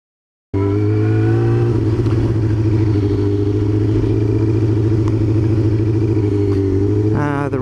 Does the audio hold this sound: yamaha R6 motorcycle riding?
yes